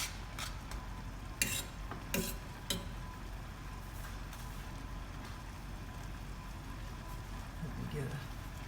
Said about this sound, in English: I'm just going to let all this simmer together until those vegetables get really tender.